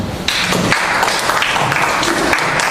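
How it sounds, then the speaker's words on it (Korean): Audience applause at a labor party debate forum in the Jeonbuk region, a dense sustained patter of many hands clapping close by from start to finish. "인사 박수 부탁드리겠습니다"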